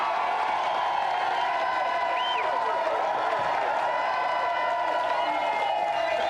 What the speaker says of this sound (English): Give them a round of applause, Michael and Macaulay.